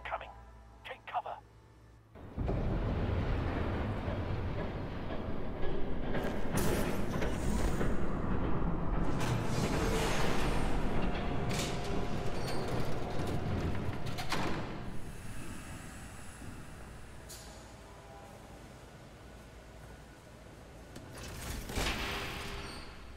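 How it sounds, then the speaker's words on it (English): A train rushes past in the Batman Telltale Series video game, a loud, sustained roaring rumble with hissing that starts abruptly, holds steady, then gradually fades. "There's a train coming."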